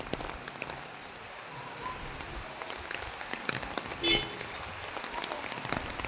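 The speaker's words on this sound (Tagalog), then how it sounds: "Maulan lang, maulan eh" Steady rain falls outdoors as a constant broadband hiss, with a faint voice and a brief higher sound partway through.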